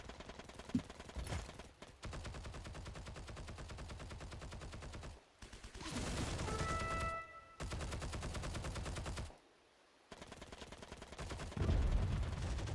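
Gunfire in the WWII shooter Heroes & Generals: bursts of rapid automatic fire broken by short pauses, loud and close, with a few single shots and no talking.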